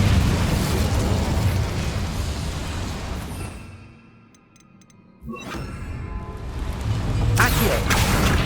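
An Incendio fire spell cast in the Hogwarts Legacy video game: a loud roaring burst of flame and rumble that fades to a brief lull, then surges again, dense and continuous.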